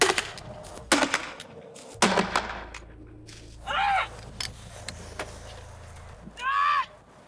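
A grenade launcher fires outdoors at a science demonstration: a few sharp, loud thumps early on, followed by quieter rustling and two short vocal outbursts from people nearby.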